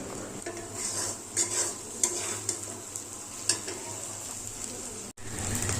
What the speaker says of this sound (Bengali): তো দেখো এবার ডিমটা দিয়ে দিলাম। তো ডিমটা ততক্ষণ ভাজা হোক।